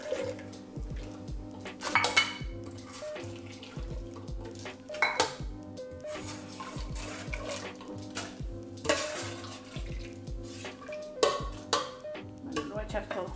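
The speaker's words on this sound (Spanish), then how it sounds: "Y ahora le voy a agregar los frijoles. Y, y aquí voy a agregar todo porque no es mucho." Beans and broth go into a pot with repeated clanks, scrapes and soft sloshing, over a steady tonal background hum throughout.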